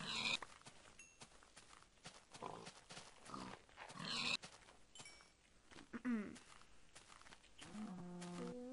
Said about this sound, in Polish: O, tu cały czas świnki